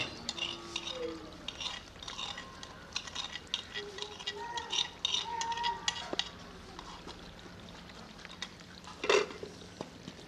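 Cream being stirred into potato karahi off the heat, with soft scraping and light sizzling strokes in the pan, irregular and close, plus faint clinks and a sharper scrape near the end.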